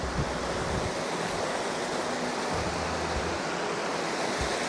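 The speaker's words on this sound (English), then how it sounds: "That's fresh water. It's dumping into the lake." Fresh water from a pump pours steadily into a lake, a continuous broadband rush like surf or a small waterfall, loud and close with no voices.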